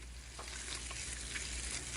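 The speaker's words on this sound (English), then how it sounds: "Listen to that sizzle." Breakfast frying in a pan gives a steady, close crackling sizzle that lasts the whole stretch, with small pops rising out of it and no voices.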